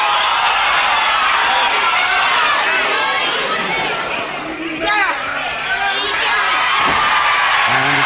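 A wrestling arena crowd shouts and jeers at the referee, a dense roar of overlapping voices rising and falling throughout, with a few sharper yells cutting through near the middle.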